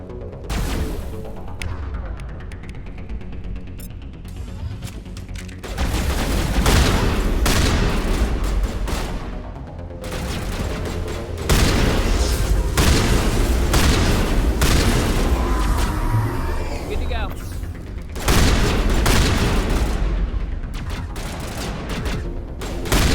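Shotguns fire in the video game Mass Effect, sending out loud, booming blasts in irregular bursts over a dense backdrop of combat noise and music.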